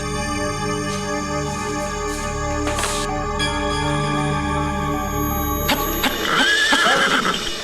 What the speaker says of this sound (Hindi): सर थाने में एक घोड़ा घुसकर बहुत उत्पात मचा दिया है